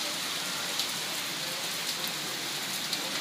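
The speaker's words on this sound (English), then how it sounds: "I don't know if you can really see how much it's raining, but it's raining a lot." Heavy rain pours steadily outside on Koh Tao, a dense continuous hiss with scattered louder drops and no voices.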